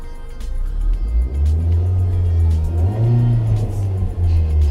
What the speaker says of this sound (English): When you're ready, you're still in second, by the way. Don't forget, give it gas too.